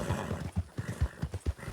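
A horse in the video game Red Dead Redemption whinnies while its hooves beat a quick, close, rhythmic clip-clop on the ground, with no talk.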